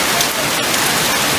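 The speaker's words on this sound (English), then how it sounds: "Yes, it is raining." Steady, dense rain pours over a Norwegian Epic cruise ship, a loud continuous hiss of drops hitting surfaces with no break and no voices.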